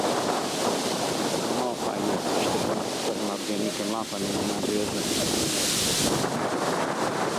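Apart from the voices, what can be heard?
strong wind blowing on microphone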